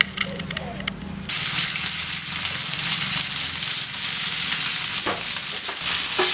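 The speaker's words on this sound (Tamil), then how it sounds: "கொஞ்சம் எண்ணெய் ஊற்றி தான் எல்லாமே நம்ம பொரிச்சு எடுத்துக்கிறோம்." Chicken drops into a pan of a little refined oil, and a loud, steady, hissing fry starts about a second in after a quieter opening, continuing close up with faint crackles to the end.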